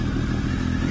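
Triumph Tiger 955i motorcycle being ridden, a steady, fairly loud engine drone with a slight clatter, heard alone in a brief burst.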